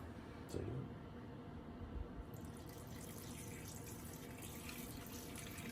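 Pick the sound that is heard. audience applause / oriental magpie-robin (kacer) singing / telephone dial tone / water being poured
water being poured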